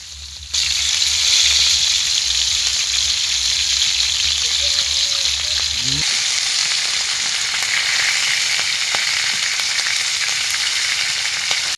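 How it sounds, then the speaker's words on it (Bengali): Pomfret fish, a 750-gram river catch, dropped into hot oil and frying with a loud, steady sizzle that starts after a brief quiet moment and continues alone, with a faint clatter or stir partway through. "মাছ বাজার পাইনে তেল তেল গরম হয়ে গেছে, এখন মাছটা দিয়ে দিমু।"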